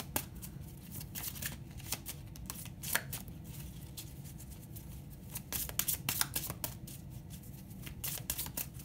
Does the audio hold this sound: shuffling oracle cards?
yes